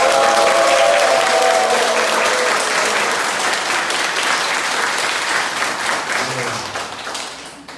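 A church congregation applauds at a Korean Protestant worship service during an all-member retreat, a dense, loud burst of clapping that starts full and slowly tapers over several seconds, with a faint sustained tone early on.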